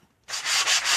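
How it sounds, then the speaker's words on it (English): An old sanding pad rubs across a painted board, a bright, steady scratchy rasp that starts abruptly after a brief silence and continues in close, even back-and-forth strokes. "I'm going to take just an old sanding pad."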